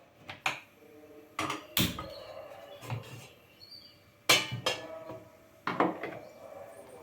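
Sharp metallic clanks and knocks of a metal idli pot being handled and set down on a stove, several separate impacts spread across the clip, close and fairly loud.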